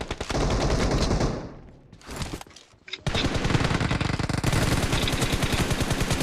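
Dense automatic gunfire in a PUBG battle, rapid bursts close and loud, briefly dropping off before a long, relentless stream of shots resumes.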